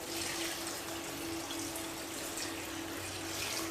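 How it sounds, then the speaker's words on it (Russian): Steady running water splashes continuously, poured into a pot of beans, with a constant hiss and no voices. "Ну и теперь наливаем сюда воду"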